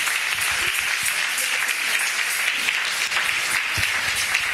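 An audience in a church applauding, a dense steady wash of clapping hands filling the space from start to finish, with a voice briefly audible.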